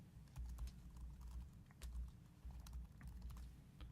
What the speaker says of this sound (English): type in what I want to say